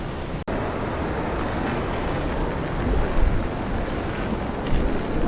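Large ocean waves break during a typhoon in Da Nang, a loud, continuous roar of surf churned with heavy wind buffeting the microphone, swelling in bursts near the middle and end.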